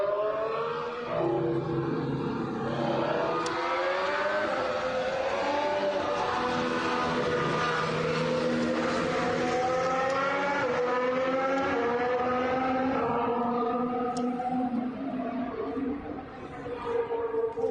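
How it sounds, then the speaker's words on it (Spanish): Mercedes W17 Formula 1 car engine on a wet track, a loud high-pitched wail rising and falling in pitch as it sweeps past, fading slightly near the end. "en el que se escucha muy bien el sonido del motor"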